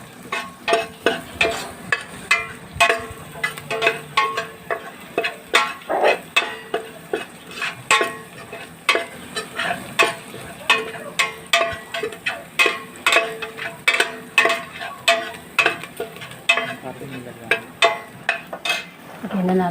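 Garlic and onion sautéing in a pan for Bicolano-style squash stir-fry, with steady frying and repeated rhythmic scraping and stirring of a utensil against the pan, fairly close.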